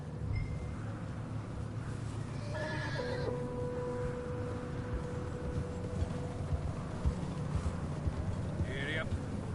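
A horse in Red Dead Redemption 2 neighs and whinnies twice over wind noise, steady hoofbeats and faint background voices.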